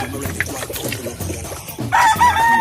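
Hens cluck and rustle nearby in a backyard flock of gamefowl, then a rooster lets out a loud crow toward the end.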